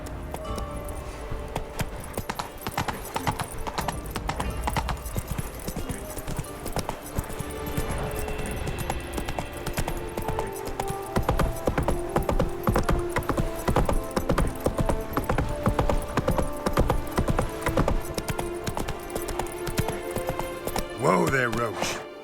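Hooves of Roach, a horse in The Witcher 3, galloping in a fast, dense, rhythmic pounding that carries through the whole stretch, with speech and game sounds layered over it.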